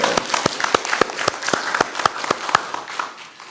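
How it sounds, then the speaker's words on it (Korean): A church congregation gives a round of applause after a choir's hymn, heard as distinct, fairly loud individual claps in a steady rhythm, fading slightly toward the end. "성가대 수고와 또 우리 영광 받을 하나님께 박수를 한번 다시 영광 돌리겠습니다"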